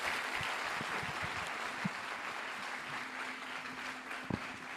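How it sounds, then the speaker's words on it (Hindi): Sustained applause from an audience at a motivational business gathering, a dense steady clapping wash lasting the whole stretch with a few louder individual claps standing out near the end. "आप सबके लिए गगनभेदी ताली बजाएं"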